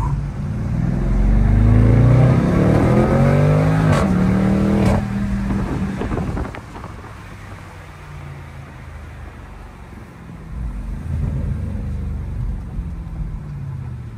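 A BMW M550i revs hard during a night drive, the engine rising to a loud, growling rev before dropping back and swelling again, heard from nearby with no talking.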